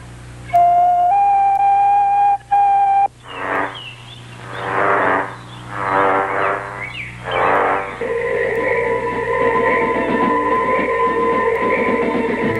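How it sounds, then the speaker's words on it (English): Shrill tonal bamboo whistle blasts, several short toots, then rhythmic breathy whooshes and a long sustained reedy whistle tone, close and loud. "Or a flute or a whistle to call your friends."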